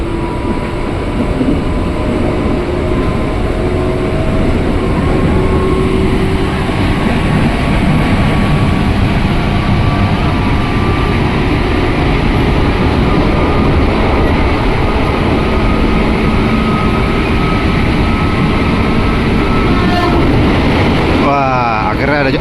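A KRL commuter train on the Cikarang line runs along the rails, a continuous loud rumble with faint tonal whine that stays steady throughout, ending with a brief rattle near the close.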